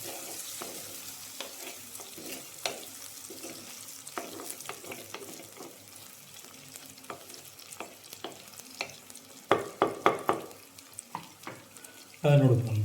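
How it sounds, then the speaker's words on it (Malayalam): Two green chillies stirred in a hot pan with sizzling oil, faint frying hiss under irregular scraping clicks of a spoon against the pan, growing louder and busier toward the end. "ഒന്ന് ഇളക്കുക, നന്നായിട്ടൊന്ന് ഇളക്കുക."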